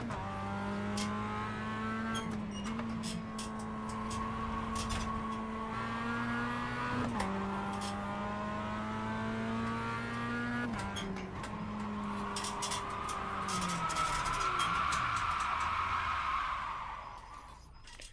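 A Mazda MX-5 race car circles Okayama in a racing game while its tires are warmed, the engine droning steadily with repeated gear shifts and rising revs, then a long tire squeal before the sound fades.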